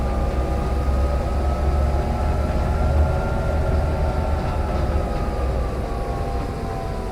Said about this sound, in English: I could listen to this tractor all day.